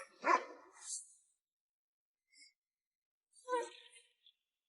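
A dog barks in a few sharp bursts at close range, separated by silent gaps, with a yelp-like cry near the end.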